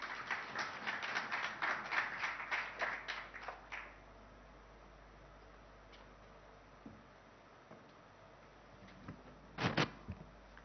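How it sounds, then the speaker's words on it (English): Sparse, moderately loud clapping from an audience at a German investors' summit at Taj Krishna, tapering off after a few seconds, followed by quiet room tone and a brief thump. "Can we have a round of applause?"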